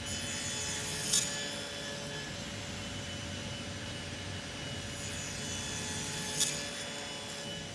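A chop saw runs through pine stock in a This Old House workshop, giving a steady, fairly quiet whirring grind with two brief sharp knocks and no voices.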